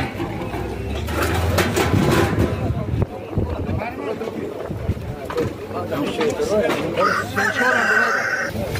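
Chickens and roosters at a busy poultry market in Tajikistan, with clucking and occasional crowing mixed into dense crowd chatter and people talking nearby throughout.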